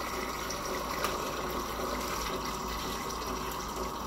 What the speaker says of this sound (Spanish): Le vamos a echar agua.